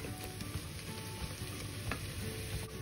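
Chopped fenugreek leaves for sarson ka saag sizzle and crackle in a hot pan as they are stirred, a continuous moderate frying hiss with light scraping, no voices.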